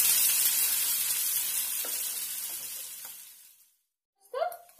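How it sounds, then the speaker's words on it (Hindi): Sliced onions frying toward light brown for besan kadhi, a bright close sizzle that fades out to near silence, then a short clatter at the end. "अब इसमें प्याज डाल देंगे, प्याज को हल्का ब्राउन करेंगे।"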